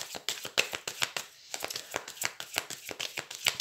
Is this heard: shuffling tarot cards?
yes